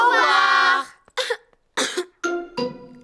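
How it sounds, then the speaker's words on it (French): Cartoon pig and animal characters coughing, a long harsh cough followed by several short bursts in quick succession, loud and close. "la toux de Pedro est contagieuse"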